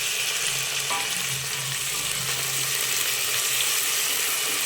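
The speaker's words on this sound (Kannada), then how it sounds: "ಟೊಮೊಟೊ ಸ್ವಲ್ಪ ಚೆನ್ನಾಗಿ ಫ್ರೈ ಆಗಲಿ" Tomatoes fry in a pan for Mandya-style khichdi, a dense, even sizzle that holds close and loud throughout with faint stirring underneath.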